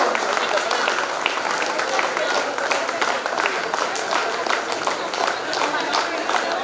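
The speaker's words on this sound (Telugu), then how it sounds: "చప్పట్లు" A crowd of former students at a school silver jubilee reunion claps steadily for several seconds, a dense, even patter of many hands with voices mixed in.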